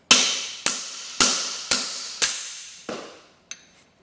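Hammer blows on a chisel cutting rivets off a broken hay mower, five sharp ringing metallic strikes at an even pace, then two lighter taps, loud and close with fading ring after each.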